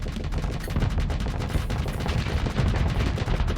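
Rapid, dense machine-gun fire in the space combat game Starsector, loud and continuous bursts of overlapping shots rattling without pause, with no talking.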